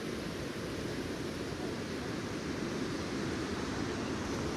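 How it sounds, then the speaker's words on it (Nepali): The Malang river (Malang Khola), running high after rain upstream, gives a steady, close, full rushing roar of flowing water that never lets up and carries no voices. "फाइनली आइपुग्यो ए मलङ खोला"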